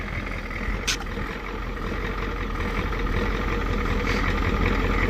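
A 1985 Ford F250 with a 6.9 IDI diesel engine idles close by, a steady low rumbling clatter that stays even and continuous, with a brief sharp hiss near the start.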